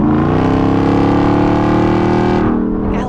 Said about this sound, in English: Do you hear that supercharger?